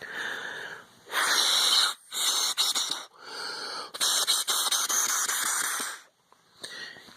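Air blown by mouth through the idle air control valve of a 1999 Honda Odyssey, heard as several close, breathy wheezing bursts, hissing and squeaking, that stop and start as the airflow is restricted and released.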